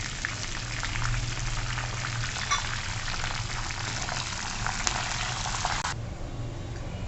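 Curry leaves sizzle steadily in hot oil on a low flame while tempering a puffed rice, lahya and makhana chivda, a dense crackling hiss that holds loud and stops abruptly near the end.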